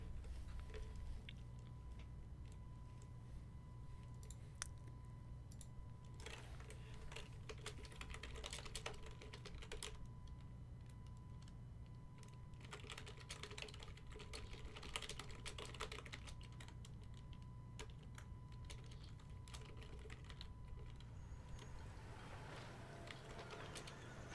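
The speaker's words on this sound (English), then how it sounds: "I just sort of reach into the darkness to press the F keys" Computer keyboard keys clatter softly in scattered bursts of quick taps, fairly faint and close, with a steady low hum underneath and no speech.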